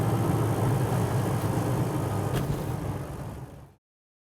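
A car engine rumbles steadily as the vehicle follows close behind, a constant low drone with road noise that cuts off abruptly, with no talking.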